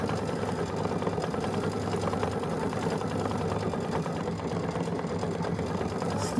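A domestic sewing machine stitches steadily and close by for the whole stretch, a dense, even mechanical whir with a fast rhythmic clatter and no pauses.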